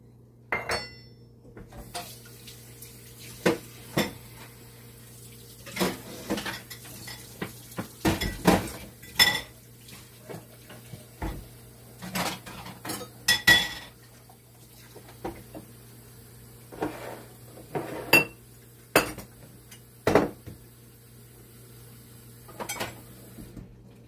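A pot and cookware are handled in a kitchen during pancake making, giving a series of sharp metallic clanks, knocks and clinks spaced irregularly over quiet pauses, close by with no talk.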